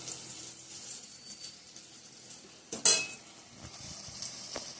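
Eggplant slices frying in a pan give a soft, close sizzle, broken near the middle by one sharp clink of a utensil against the pan, then quiet frying again.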